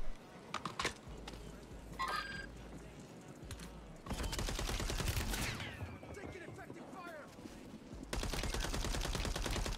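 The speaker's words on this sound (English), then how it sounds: "He's getting shot at from someone else." Video game gunfire crackles in dense bursts and rapid automatic volleys, loud and sustained in stretches, with keyboard clicks and occasional talk in between.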